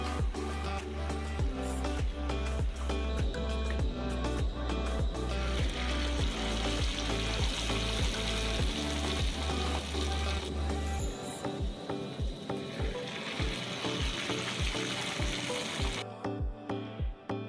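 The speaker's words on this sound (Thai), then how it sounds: "คอยพลิกไปเรื่อยเพื่อไม่ให้แป้งติดกันนะครับ เมื่อสุกกรอบได้ที่ก็นำมาใส่จานครับ" Sheets of khanom jeen rice noodle dough deep-fry in hot oil, a loud, continuous bubbling sizzle that carries on for the whole stretch with a low steady hum beneath it; no voices.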